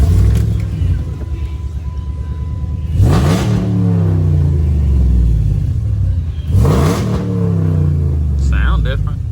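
A Jeep Commander engine with a cold air intake starts and revs, rising in two loud bursts over a steady low rumble, with music playing in the background.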